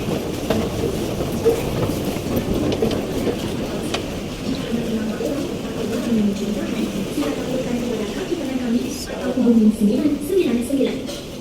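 A Singapore MRT train rumbles steadily along the tracks near Orchard with a continuous low roar and faint clatter throughout.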